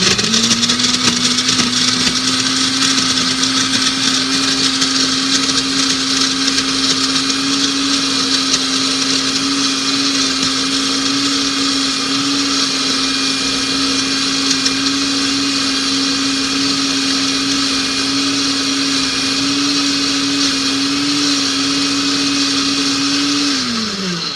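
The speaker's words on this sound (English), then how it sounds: "So you're gonna turn it on and hit the puree button." Blender pureeing a strawberry smoothie, a loud, steady motor whine running continuously for over twenty seconds before winding down at the end, no talking.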